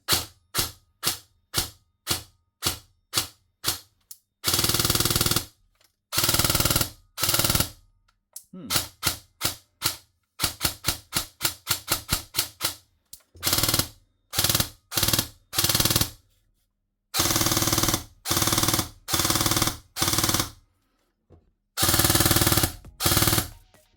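A Novritsch SSR4 airsoft rifle fires close by, first in rapid single shots, then in repeated short bursts separated by brief silences, sharp and loud throughout.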